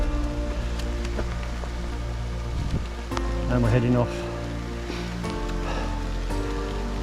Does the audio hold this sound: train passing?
no